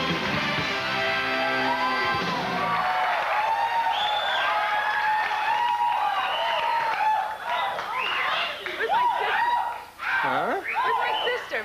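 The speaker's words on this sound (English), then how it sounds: "Big round of applause for Miss Vanity." A talk-show studio audience claps and cheers as a guest walks out in 1986. A loud, sustained burst of applause mixes with whoops and laughter, and voices rise through the noise.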